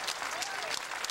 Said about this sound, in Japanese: もう3度目拍手喝采割れんばかり。